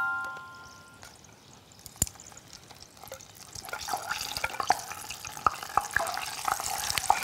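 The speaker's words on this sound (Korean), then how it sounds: "식히는 동안에 채소를 먼저 튀겨볼게요." Shishito peppers dropped into hot oil for deep-frying, a soft bubbling sizzle that builds and crackles steadily after a quiet start, with occasional sharp clicks and pops.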